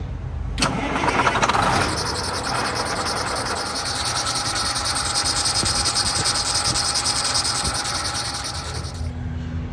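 Truck engine cranking and catching after a belt tensioner failure, a sharp start followed by a steady running drone with a high whining, chattering tone riding on top, close and loud, cutting off near the end, no talking.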